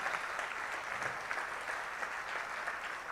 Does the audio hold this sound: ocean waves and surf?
no